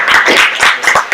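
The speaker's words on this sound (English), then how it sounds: "Let's give him a round of applause." An audience at a fall leadership training session claps, a short burst of close, uneven clapping from a small crowd with no voices.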